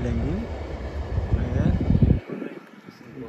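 Train rushing past at speed on a dangerous stretch of track, a loud rumbling clatter that builds and then cuts off abruptly, leaving quieter background noise afterward.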